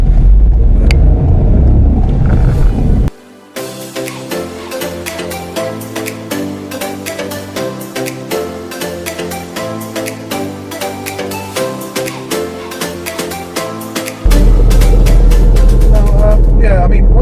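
Interior road noise from a 2020-onward Ford Fiesta Mk7/8 cruising on the motorway: a loud, steady low rumble that is briefly replaced by music in the middle before returning.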